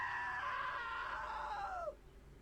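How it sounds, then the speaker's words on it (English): A long, high scream from a character in the video game What Remains of Edith Finch, loud and sustained for about two seconds, then breaking off sharply into quiet. "Now that was a great scream."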